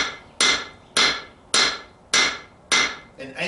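A 2.5 pound blacksmith hammer strikes heated steel on an anvil, five sharp, evenly spaced ringing blows about half a second apart, loud and close, with a lighter tap at the end.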